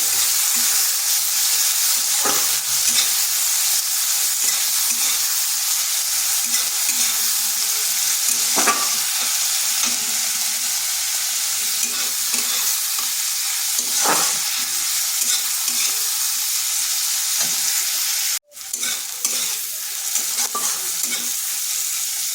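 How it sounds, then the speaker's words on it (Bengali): A medium onion with five-spice seeds fries lightly in oil for a pumpkin and masoor dal dish, giving a continuous close hiss and sizzle broken by occasional stirring scrapes and one sharp knock near the end; no talking. "পেঁয়াজটাকে হালকা একটু ভেজে নিচ্ছি।"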